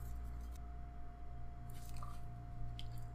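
Someone bites into and chews a regular-size Papa John's original crust pizza, giving a few soft, moist squishing and crunching sounds close to the mic over a steady low hum, with no talk.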